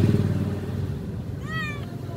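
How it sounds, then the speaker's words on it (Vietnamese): A tabby cat gives one short meow near the end, heard over a low rumbling engine-like background. "Mèo này mèo mướp, mà mèo mướp này, mướp á."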